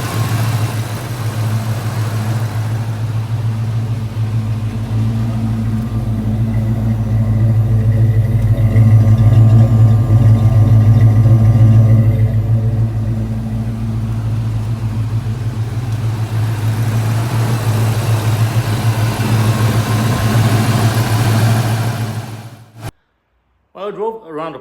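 A Fox Body Mustang with a 5.0L V8 idles steadily after a cold start, a loud, even low rumble that holds for about twenty seconds before cutting off.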